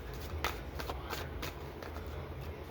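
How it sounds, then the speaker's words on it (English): Tarot cards laid out on a surface make a run of soft, close slaps and flicks, quiet and irregular, with no talking. "let me just lay some more cards out"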